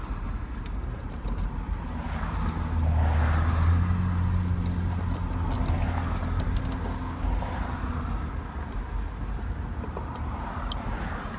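Dense street traffic in a jammed Vietnamese city street, with a steady low engine rumble and scattered horn-like tones rising over constant broadband noise, loud and continuous with no talk.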